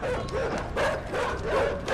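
A dog in the puzzle-platformer video game Inside yaps and yelps repeatedly for about two seconds, close and loud, with short bursts over a steady game background.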